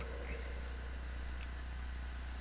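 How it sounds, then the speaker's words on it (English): Swamp ambience from the Infocom text adventure Enchanter: a steady chorus of chirping creatures pulses rhythmically over a constant low hum, with no voices. "The sounds of frogs and other swamp dwellers fill the air."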